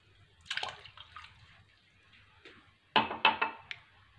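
Warm water is poured into a bowl of pancake batter made with mandarin orange juice, in two short splashy bursts with a quiet pause between them.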